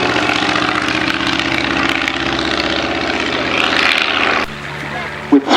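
A de Havilland DH-2 biplane's rotary engine drones steadily at an East Kirkby airshow, a loud continuous buzz that dips near the end before surging briefly, with a commentator's voice running underneath.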